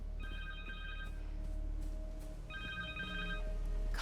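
A cell phone rings in Marvel's Spider-Man 2, two bursts of electronic ringing separated by a pause, under a low steady game background hum.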